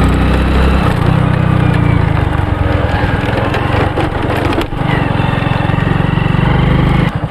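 A motorcycle engine running on turpentine oil is revved hard right beside the listener. It gives a loud, rough, continuous roar that surges with each throttle blip and then briefly dips.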